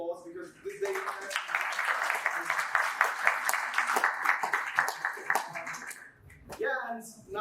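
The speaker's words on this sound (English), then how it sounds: "let's give them a big round of applause" A crowd applauds at the DataFest 2022 tech conference in Yerevan, a burst of moderate clapping lasting several seconds before fading, with voices briefly audible at the start and end.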